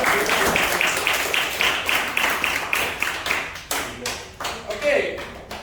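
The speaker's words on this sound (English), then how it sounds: "give a clap" Clapping in a corporate sustainability training session, a group of people clapping in rhythmic unison, fairly close, fading toward the end, with voices mixed in near the finish.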